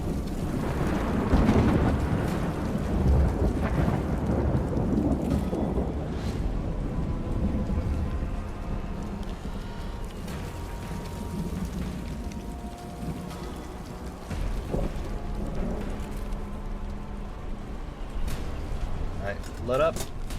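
Thunder rumbles with steady rain in the video game Stray Souls, a continuous stormy wash with a few sharper cracks, while a voice talks over it.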